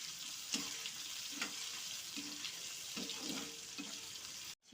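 Chopped onion frying in oil with mustard seeds and curry leaves, a steady close sizzle with periodic scraping stir strokes, alone with no talk.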